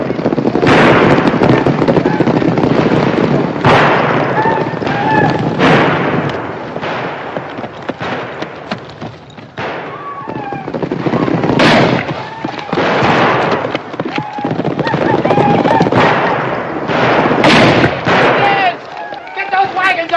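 Guns and rifles firing in a western film, a rapid, irregular barrage of sharp shots and bangs over a chaotic din, with shouting voices mixed into the clamor.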